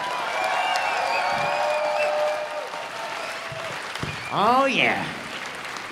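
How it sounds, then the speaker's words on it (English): Audience applause for dancers at a 2018 dance competition: steady clapping and a bit of cheering from a crowd fills the hall, with a short voice exclaiming near the end. "So I want to hear another round of applause for every single dancer that's back there."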